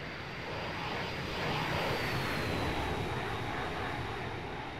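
A fixed-wing aircraft takes off in the video game Arma, its engine roaring as one continuous wash that swells toward the middle and holds steady, heard on its own without voices.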